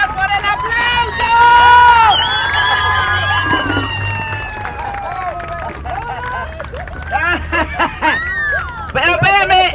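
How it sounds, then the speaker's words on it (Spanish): A live audience in Puerto Vallarta, Jalisco cheers, whoops and claps for a clown troupe's show, loud and sustained crowd noise with shouting voices rising and falling throughout. "Muy amable, gracias por el aplauso."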